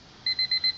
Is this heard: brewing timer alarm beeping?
yes